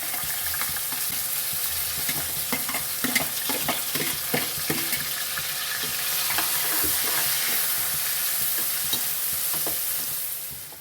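Chopped onion with garlic, cumin, asafoetida and salt sautéing in a hot pan, a steady close sizzle broken by repeated scraping stirs of a spoon, with no voices.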